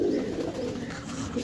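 A pigeon cooing in a soft, low, throaty murmur, close by and steady over a brief moment without other sounds.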